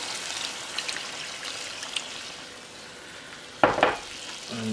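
Water poured into a pot of simmering Jamaican oxtail, a soft steady sizzle and bubbling heard alone, quiet, followed by a brief louder splash near the end.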